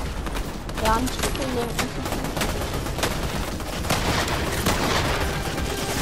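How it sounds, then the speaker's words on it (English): Striker Burst assault rifle from a new Fortnite season, firing repeated sharp shots in quick groups throughout a busy, loud game mix, with a person talking over the shooting. "this is the striker burst. It is literally just a burst assault rifle"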